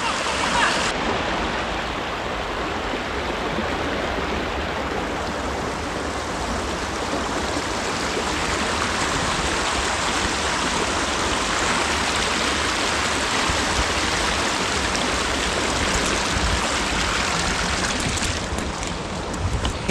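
Waterfalls and a stream rush steadily for the whole stretch, a loud, continuous broadband roar of falling and flowing water close by, with nothing else standing out above it.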